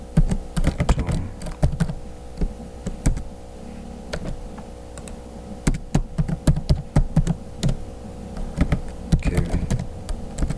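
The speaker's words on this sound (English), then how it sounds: "The moment I start typing" Keys clatter on a computer keyboard in uneven bursts of close, crisp taps, with brief pauses between runs of typing over a faint steady hum.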